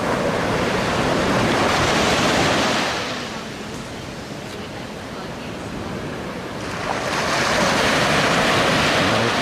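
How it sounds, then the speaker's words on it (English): Ocean waves break on a Costa Rican beach in two loud, close surges with a quieter lull of receding water between them, a steady wind rush underneath. "I don't even know if you can hear me because the ocean"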